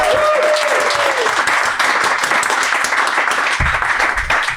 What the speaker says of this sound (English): Big round of applause for Erika.